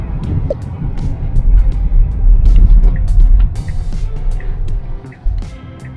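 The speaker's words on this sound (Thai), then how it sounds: "อันนี้เป็นการทดสอบหลุมอีกรอบหนึ่งนะครับ" Tesla Model Y electric car driving over potholes, heard from inside the cabin as a steady low road rumble broken by dull suspension thumps, with a sharper knock near the end.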